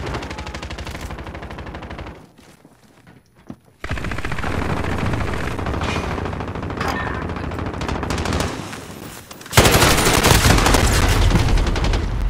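An LMG machine gun in Call of Duty: Modern Warfare fires long, loud sustained bursts. A brief quieter gap falls near the start, then heavy continuous fire returns, and a harsher, louder burst closes the clip.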